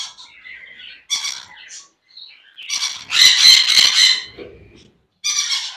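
Long-tailed parakeets in an aviary at a bird farm in Kolkata let out loud, harsh squawks in repeated bursts, the densest run coming midway, close and alone without talk.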